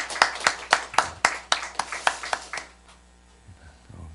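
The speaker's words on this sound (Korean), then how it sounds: "한번 다시 감사 격려 박수 하시겠습니다." A small church congregation at a Holy Week early-morning prayer service claps for the choir, about a dozen rhythmic, fairly close claps in a quiet room that stop abruptly and leave near silence.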